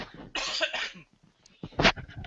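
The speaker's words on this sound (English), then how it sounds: "I'm really coughing." A person still recovering from an illness coughs up close: a long harsh rasping fit, a short pause, then a second sharp cough.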